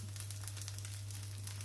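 Crispy rice crust frying in a shallow layer of oil, a soft, steady sizzle with faint crackles over a low constant hum, heard close up and quiet.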